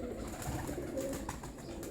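A prized show pigeon coos softly against a dense, steady background hum.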